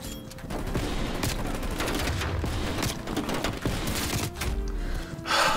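Call of Duty gunfire comes in dense, loud, rapid bursts of shots that nearly fill the stretch, with brief dips between volleys and a final burst at the end.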